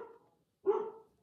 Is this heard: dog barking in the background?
yes